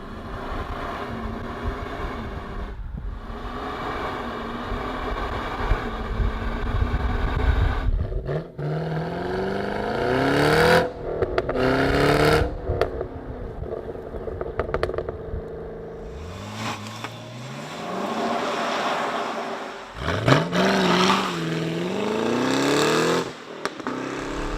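A 2017 Kia Stinger or Holden Commodore SS V Redline engine revs and accelerates hard, rising through several gear shifts with loud, close exhaust and pitch sweeps that dip and climb again.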